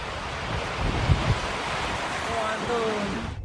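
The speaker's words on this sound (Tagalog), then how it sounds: "Hinampas din ng malakas na hangin ang pagudpod." Strong wind roaring steadily outdoors in Pagudpud, Ilocos Norte, a dense broadband rush buffeting the microphone, with a brief voice-like sound briefly heard in the gusts.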